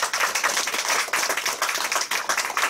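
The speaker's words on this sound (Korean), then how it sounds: "박수 한번 쳐주시죠." Audience at a Christian organisations' mask donation ceremony claps loudly and briskly, a dense burst of many hands with a slightly pulsing rhythm close by, no voices over it.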